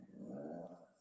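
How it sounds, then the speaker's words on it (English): A pet dog lets out a short, low growl lasting under a second, faint and distant in a quiet room. "that was my dog if you heard her."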